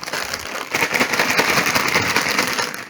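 Frozen chicken nuggets rattled inside a McCain Shake Shake spicy seasoning bag, giving a continuous rustling, crinkly shake that is close and steady throughout.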